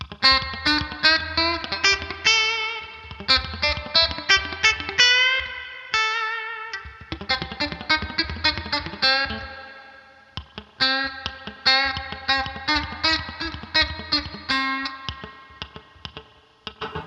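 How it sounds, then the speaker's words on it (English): Fast, twangy electric guitar lick with clucking, staccato picked notes in quick bursts, played solo with slight effects and short pauses. "One more little quick chicken picking lick I might throw in there"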